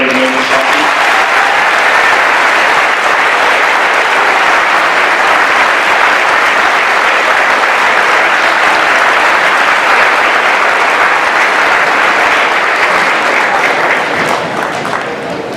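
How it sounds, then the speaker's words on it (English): A ceremony audience at Biddeford High School gives a long, loud round of applause for Wreaths Across America, dense, continuous clapping from a large crowd that holds steady and fades slightly at the end. "If we could just have one more round of applause for everybody who made this happen."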